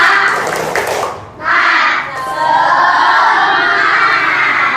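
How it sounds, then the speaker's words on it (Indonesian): Classroom children chanting and shouting together in an energetic spirit clap, loud group voices with a short pause, then a rising burst of cheering that carries on. "untuk semangat belajar, mari kita ini semuanya tepuk semangat ya"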